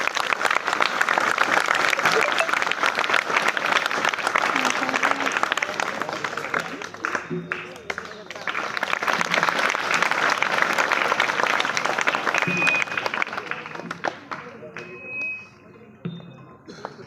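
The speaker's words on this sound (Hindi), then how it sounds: "तालियां दें" Loud, sustained applause from a village crowd welcoming Veer Bhagat Singh Yuva Dal members, steady clapping for about thirteen seconds before thinning out and fading, with some voices mixed in.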